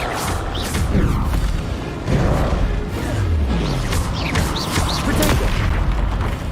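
The Bombarda spell explodes in the Hogwarts Legacy video game as a loud, booming blast, followed by further heavy thuds and crashes over a dense rumbling combat backdrop, with a voice heard faintly.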